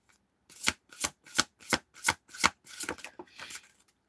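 A deck of tarot cards is shuffled, giving about six evenly spaced riffling bursts followed by a longer, looser rustle of cards, close and fairly loud with no voices.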